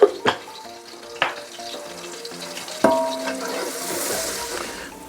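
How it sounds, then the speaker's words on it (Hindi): Onions frying in a pan with salt and dry ground coriander, cooked as the base for goat trotter paya: a steady close sizzle with a few sharp clatters of stirring. "तो नमक आप उसमें ऐड कर दीजिए ताकि आपका प्याज पानी जल्दी छोड़ दे और जल्दी फ्राई हो जाए।"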